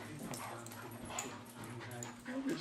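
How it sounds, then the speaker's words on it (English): A female dog growls during rough play with other dogs, low rumbling growls and small whimpering yips blending under faint background talk. "her growling and overly assertive kind of communication scares some dogs off from staying engaged with her"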